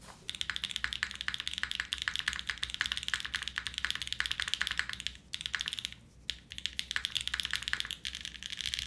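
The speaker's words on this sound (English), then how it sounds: "You'll get a keyboard that ends up sounding like this." Rapid, continuous typing on a Wind Z75 mechanical keyboard gives dense, crisp clicking and clacking close up, with a couple of short pauses and no voices.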